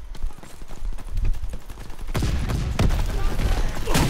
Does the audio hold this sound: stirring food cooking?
no